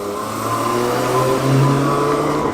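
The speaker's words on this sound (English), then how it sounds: "Corvette heads off behind me" A Corvette pulls away at a classic car show, its engine a loud, steady mid-range drone that swells briefly as it drives off nearby.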